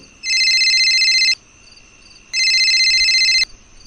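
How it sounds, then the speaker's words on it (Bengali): A mobile phone ringing in a pocket as a cartoon sound effect: two loud, bright electronic trilling bursts about a second long each, separated by a short pause, with no talk. "অটো থেকে নামতেই পকেটে ফোনটা বেজে উঠল"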